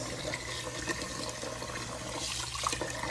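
Running water pours and splashes steadily while something is rinsed under it, a soft, continuous wash of flowing liquid with no talking.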